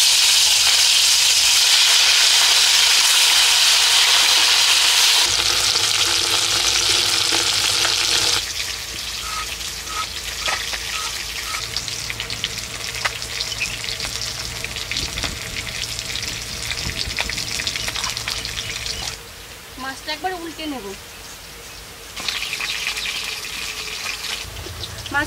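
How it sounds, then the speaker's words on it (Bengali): Fish fries in mustard oil in a wok during village cooking, a loud, dense, continuous sizzle that drops in intensity midway and carries on with occasional stirring and faint birdsong. "মাছ ভাজার জন্য কড়াইতে সরষের তেল দিয়ে দিয়েছি।"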